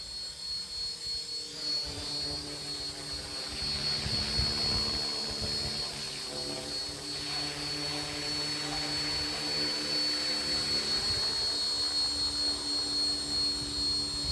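A radio-controlled model helicopter flies steadily with a continuous whining rotor and motor drone that holds an even, moderately close level, with some gentle swells as it hovers.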